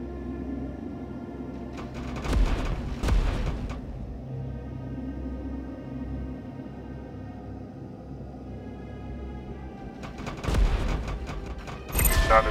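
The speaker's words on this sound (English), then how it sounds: "so the fighters will be able to safely destroy their turrets" In the space strategy game Dust Fleet, fighters attack raider ship turrets, producing clustered bursts of weapon fire and impacts that rise over a low, steady ambient hum, with quieter stretches between the volleys.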